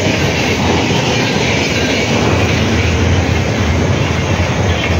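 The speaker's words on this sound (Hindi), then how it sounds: "ये जनता एक्सप्रेस है जो आप देख रहे हैं" Janta Express passenger train passing close on a rail line under doubling work, a loud continuous rumble and clatter of wheels on track with rushing wind noise, sustained throughout without talk.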